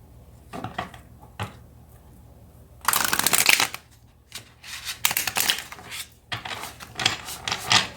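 A deck of tarot cards gets shuffled up close in several bursts of riffling and sliding, crisp papery flutters separated by short pauses, with no talking.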